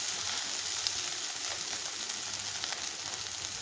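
Chili powder, red chili powder, turmeric and ginger garlic paste sizzle in hot oil in a frying pan for spinach chana masala, a steady, close, even hiss with no talking.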